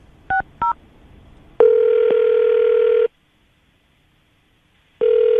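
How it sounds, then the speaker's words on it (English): A telephone being dialed: two short touch-tone beeps, then a steady dial tone that runs for about a second and a half, a pause of silence, and the tone returning, loud and close with no talking. "I'm going to dial the number now, see if we can get her on the phone"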